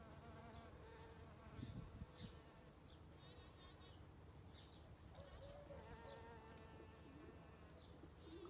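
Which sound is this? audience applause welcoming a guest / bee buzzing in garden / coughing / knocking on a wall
bee buzzing in garden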